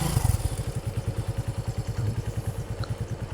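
A motorcycle engine runs steadily during a ride, its low, rhythmic pulsing throb close and loud with no talking.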